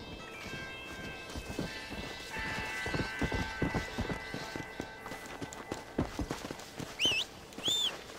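Horse hooves in the video game Red Dead Redemption: Undead Nightmare clop at a running pace, regular and close, with a brief high whinny-like cry toward the end over faint background tones.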